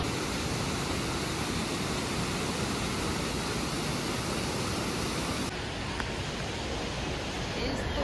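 Mountain river rushing beside a trekking trail in the Langtang and Gosaikunda region, a dense, loud, continuous roar of flowing water that eases slightly partway through, with voices over it.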